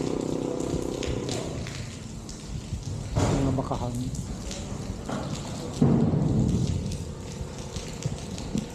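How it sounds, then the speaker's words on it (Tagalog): Rain falls with scattered drops striking close by, a soft steady patter with louder bursts, while someone talks quietly over it along a bypass road beside farmland. "magpatila tayo saglit ng ulan"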